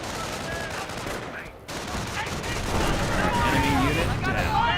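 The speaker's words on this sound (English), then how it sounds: "US sniper or Wehrmacht sniper just shot them US engineers." Gunfire from the Company of Heroes 1 video game, a US or Wehrmacht sniper firing amid a dense battle soundscape, with continuous crackling rifle and machine-gun shots layered under in-game voice chatter.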